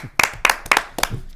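A few quick, sharp hand claps from what sounds like two people, scattered over about a second in a sports radio studio as a guest is welcomed; close and brief, with no voices.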